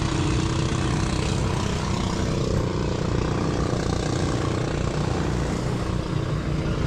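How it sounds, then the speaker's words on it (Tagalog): A loud boat motor runs steadily near an island crossing, a continuous rumbling drone with a strong low throb that holds constant throughout and carries no speech. "Ang lakas ng motor yan."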